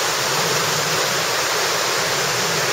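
The Salto de los Bueyes waterfall near Sosúa pours down in a constant, loud hiss of falling river water with no pause or change, close by and uninterrupted.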